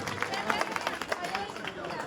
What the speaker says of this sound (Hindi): एक बार जोरदार तालियां बहनों के लिए जरूर